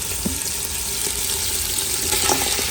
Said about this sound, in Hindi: अब एक दूसरे पतीले में हम लोग 2 से 3 टेबलस्पून तेल डालेंगे और मटन इसमें हम लोग भून लेंगे।